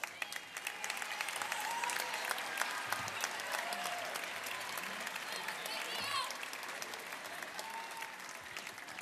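A seated audience at a university games opening ceremony breaks into sustained, even applause for a visiting university delegation, many hands clapping at a moderate distance with faint voices murmuring underneath.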